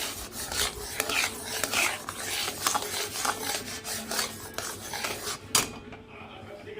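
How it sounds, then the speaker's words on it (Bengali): Continuous scraping and rubbing of a utensil against a metal wok as thick mango pulp is stirred, close and busy, ending abruptly. "আম পালটাকে নাড়িয়ে যেতে হবে নাহলে আমের পালটা কড়াই লেগে যেতে পারে"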